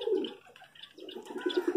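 Pigeons cooing softly nearby while feeding on scattered grain on a rooftop, a few low throaty coos in short succession.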